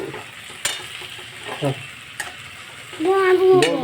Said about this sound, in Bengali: এবার ডিমটা ভাজছি ঝুড়ো ঝুড়ো করে